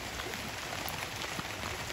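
Steady rain falls outdoors, a continuous even hiss holding at a constant level for the whole stretch, with no voices over it.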